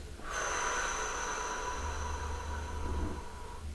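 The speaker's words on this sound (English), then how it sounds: "just very simply breathing in through your nose and blowing it out" One slow, audible breath drawn in through the nose and blown out during a relaxation exercise, close and quiet, with no speech.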